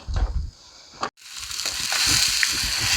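Bratwursts browning in a hot skillet give a steady close sizzle and crackle that swells after a brief pause, with faint clinks of the pan underneath.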